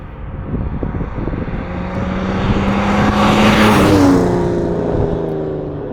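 A 1958 Jaguar XK 150 Drop Head Coupé with a 3.8-litre, 220 PS engine runs close by, a steady low hum with even tones that swells a little in the middle before settling back, with no voices.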